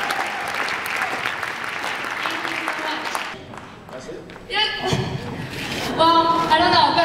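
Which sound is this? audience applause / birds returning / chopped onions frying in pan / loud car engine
audience applause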